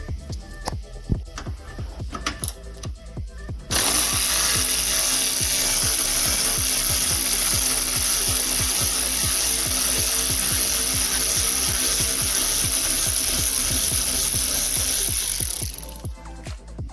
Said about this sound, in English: now I will be working on getting the screw out that's right here